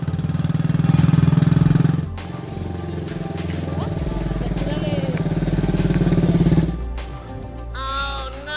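A motorcycle engine runs loud and close with a steady throbbing rumble as the rider pulls away, then cuts off abruptly near the end, with voices around it.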